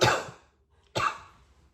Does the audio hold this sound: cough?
yes